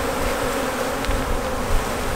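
Honey bees at a queen-rearing hive hum in a dense, continuous buzz, loud and close, steady throughout with no voices.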